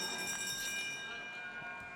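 A bell rings at an indoor speed skating oval during a women's 3000m race at the Four Continents championships in Salt Lake City, signaling the final lap; bright repeated metallic ringing rises over a distant arena hum, with tones fading in the second half.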